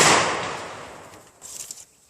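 A 12 gauge shotgun fires a custom-made shell outdoors: one sharp, loud report that decays over about a second, followed by a faint crackle.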